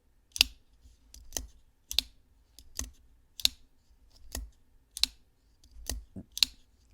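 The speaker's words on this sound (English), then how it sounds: "you have the click when you lock it out" Hogue Deka folding knife with a MagnaCut blade, its lock snapping shut again and again: about ten crisp, close metallic clicks spaced roughly evenly, with quiet handling between and no speech.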